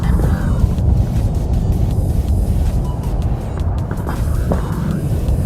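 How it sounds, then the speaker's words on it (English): Steady road traffic rumbles in the background outdoors near a park, a continuous low wash of passing vehicles with some wind buffeting the microphone. "I also hear the traffic, but c'est la vie."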